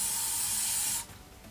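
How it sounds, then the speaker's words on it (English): Acetone nail polish remover sprays from a pump bottle in one close, steady hiss of about a second, then cuts off to quiet room tone. "You have to spray it directly on the cotton pad."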